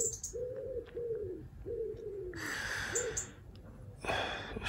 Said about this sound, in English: I swear I'm gonna kill that fucking pigeon.